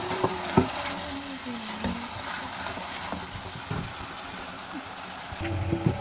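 Chicken fries in a pan with a steady, hissing sizzle, broken by a few sharp clinks of a utensil stirring against the metal. No voices are present.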